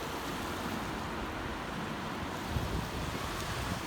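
Ocean waves wash onto a busy summer beach in a steady, continuous roar of surf, mixed with wind rush and a few slightly louder swells, with no talking.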